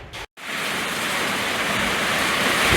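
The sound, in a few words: rain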